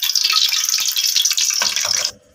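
Oil heating in a karahi with leftover water sizzling off, a steady bright hiss that holds for about two seconds, then cuts out sharply into near quiet.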